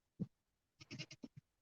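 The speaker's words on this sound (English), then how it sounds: "Goats are 16 days old, a little boy and a little girl." Two 16-day-old baby goats, a male and a female, bleat in short high cries: one brief call, then a rapid cluster of four or five bleats close by, with no talk.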